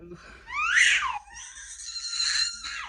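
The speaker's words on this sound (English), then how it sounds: "that scream in the background" A high-pitched scream rises sharply in the background, then a second, longer shrill cry holds at a moderate level before trailing off.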